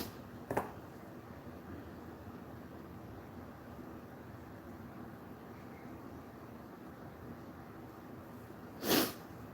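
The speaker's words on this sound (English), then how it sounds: "Sorry for my sniffles." Two short, sharp sniffles from a person stand out against a quiet room hush, one near the start and a louder one near the end, with a long quiet stretch between.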